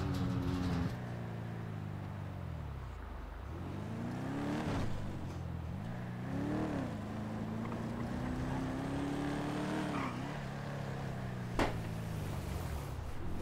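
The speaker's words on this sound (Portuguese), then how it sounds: "O barulho nesse carro é da hora" A video game car engine revs up and down repeatedly, its pitch rising and falling in sweeps, with a steady drone and no voices.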